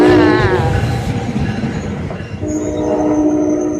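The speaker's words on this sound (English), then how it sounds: "Here comes the train to High Bridge, guys." A passenger train bound for High Bridge passes Raritan station up close, a loud horn blast at the start giving way to rumbling wheels, clatter and squealing, with another tone rising near the end.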